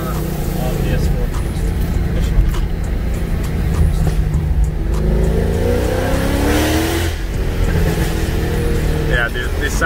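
A Mercedes C63 507 engine accelerates on a test drive on PS4 tires, a steady loud revving drone with rising pitch sweeps, heard from inside the car while people talk over it.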